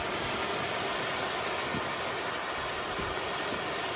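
Garlic and onion sizzle in hot oil in a pan, a loud, steady, dense hiss with no pauses.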